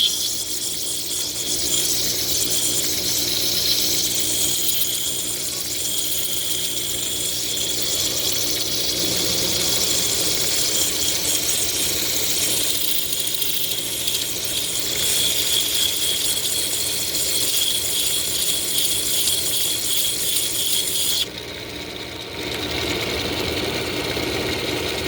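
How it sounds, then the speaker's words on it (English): A lapidary wheel grinds a flat spot on top of a natural amethyst, giving a steady, loud whirring hum with a wet, watery hiss that runs nearly unbroken and drops briefly near the end. "I'm working on this natural piece of amethyst. I'm going to grind a flat spot here on the top"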